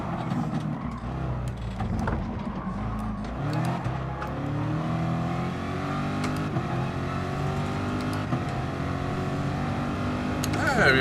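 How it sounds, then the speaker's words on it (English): A Corvette engine revving and accelerating, a loud continuous drone that rises in pitch, with voices talking over it throughout. "Corvette power, baby."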